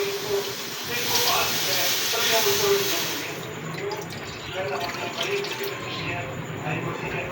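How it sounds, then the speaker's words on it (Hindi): A glass of water pours into a cooking pot for noodles in a home kitchen, a rushing, splashing hiss that swells and then settles into a steady, fairly close stream. "अब हम इसके अंदर पानी डालेंगे 1 गिलास।"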